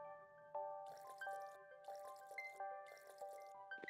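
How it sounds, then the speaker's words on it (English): Water pouring into a water pail in the video game Staxel, a soft trickling fill in three short bursts over chiming musical tones. "I physically saw water enter my water pail"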